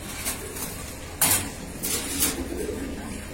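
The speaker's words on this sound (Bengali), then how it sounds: "এটা হলো কি আমাদের বিশাখাচা কবুতরের লাইনের কবুতর" Pigeons of a Bishakhacha racing line in a loft, with a soft low cooing murmur running throughout and a few brief flutters and sharp rustling bursts near the middle, no voices.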